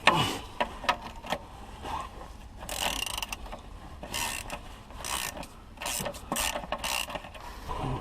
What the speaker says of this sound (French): On a besoin d'une douille 21.